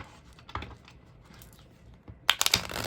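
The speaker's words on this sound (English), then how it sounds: "So this would be the way this one shuffles." Close, crisp rapid flicking of Gassmann 1840 tarot cards being shuffled, light papery clicks that build into a dense riffling flurry toward the end.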